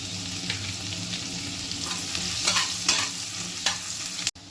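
Chopped onion, ginger and garlic fry in a pan with a close, steady sizzle, broken by a few soft stirring scrapes before a sudden cutoff.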